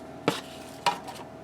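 Sliced onions dropped into a pan of olive oil, two quick soft thumps with brief rustling splatter under a steady low hum, no talking.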